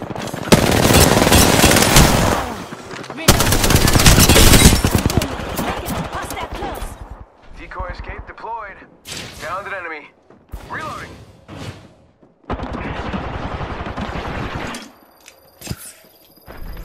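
A Spitfire light machine gun in Apex Legends fires in long, loud sustained bursts, then falls into shorter volleys mixed with reload clanks, footsteps and gear handling. A player talks intermittently.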